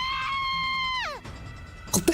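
A video game character in a slasher-route game lets out a high, sustained shriek that bends sharply downward and cuts off, followed by a brief burst of noise.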